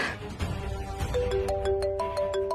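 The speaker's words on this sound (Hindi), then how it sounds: "पूजी का फोन?" A melodic ringtone plays a rising sequence of bright electronic notes, close and clear, fading in after a moment of muffled noise.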